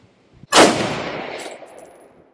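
An Aero Precision M5 AR10 in .308 fires one sharp, loud shot that rings a steel target, the report and metallic ring trailing off over about two seconds.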